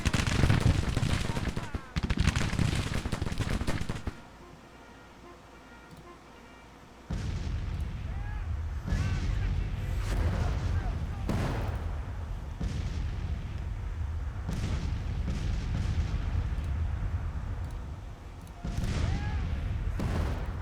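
In the video game Grand Tactician: The Civil War, musket volleys and artillery fire crack and boom in repeated bursts of varied loudness. A brief quieter lull comes early, and a voice speaks among the shots.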